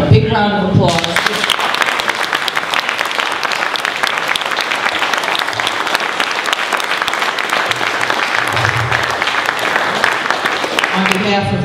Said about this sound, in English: give Attorney Knappen a big round of applause